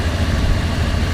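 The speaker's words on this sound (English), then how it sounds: "So go ahead and rev it up a little bit" A 1995 Ford F250 XLT 4x4 pickup engine runs with a steady, close, low rumble and no clear rise in revs. The sound holds at an even loudness throughout, with no talking.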